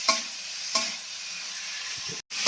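Vegetables and potato fry in a pan for winter chicken soup, a dense continuous sizzle broken by two sharp stirring scrapes and a brief dropout near the end.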